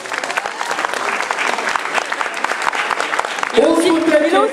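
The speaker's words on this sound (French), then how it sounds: "On peut l'applaudir." Applause from an audience honouring a cyclist at a 2008 sports awards night in Berre-l'Étang, steady and dense throughout, with a brief musical tone swelling in near the end.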